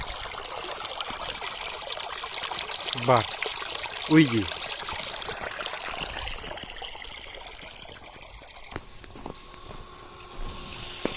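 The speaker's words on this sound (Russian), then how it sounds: "на выходе очень сильного напора нет, но течет как бы неплохо" Water trickles and pours steadily from the outlet of a fire hose run from a WQD-C-13-10-2.5 sewage pump emptying a 2-metre-deep pit, a soft continuous flow with brief footsteps and a short spoken remark over it.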